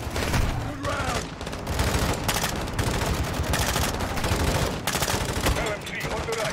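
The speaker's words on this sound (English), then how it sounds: "LMG on the right." Light machine gun fire in Call of Duty Modern Warfare 2, dense rapid bursts of gunshots rattling continuously and loudly, with voices talking briefly.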